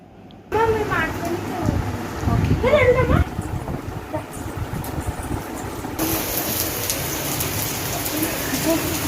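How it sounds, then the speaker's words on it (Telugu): Steady rain patters down, with voices and a faint engine hum early on; after a few seconds the rain grows louder and brighter, continuing to the end. "అమ్మా వర్షం వస్తుంది"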